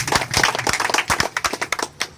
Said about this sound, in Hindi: एक बार परमपिता परमेश्वर के लिए भी जोरदार ताली हो जाए